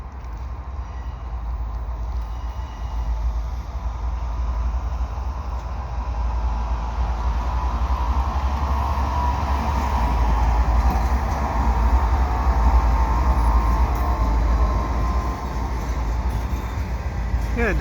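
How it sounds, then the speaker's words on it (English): A CN double-stack freight train rolls slowly through Saint Henri in Montreal, a steady loud low rumble with faint metallic squeals that builds gently and holds for the whole stretch, with no talk. "Yeah, a double stack train"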